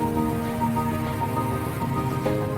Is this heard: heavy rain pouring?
yes